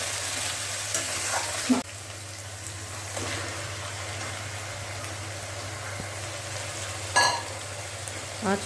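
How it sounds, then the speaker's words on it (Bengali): Chopped onions and tomato frying in a pan with cardamom, a steady close sizzle with a few clinks and scrapes of stirring. "আমি এই মিক্সচারটা ভাজা ভাজা করছি।"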